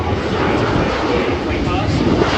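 Aircraft flying a low simulated landing pass with gear down at an airshow in Avalon, a steady loud engine roar filling the whole stretch, with voices audible over it.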